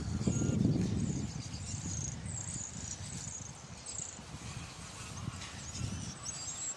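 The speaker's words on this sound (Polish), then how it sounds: "Ptaszki nam towarzyszą." High, thin bird chirps repeat throughout, light and somewhat distant, over low rustling and steady footsteps on a footpath in the Faroe Islands.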